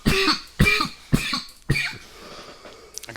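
A man coughs four times in quick succession, each harsh, loud burst close up and spaced about half a second apart, followed by a quieter rasp at the end.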